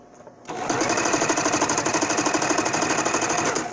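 A sewing machine stitches a fabric face mask. The needle runs in a fast, steady mechanical rhythm, close and loud, for several seconds after a brief quiet start.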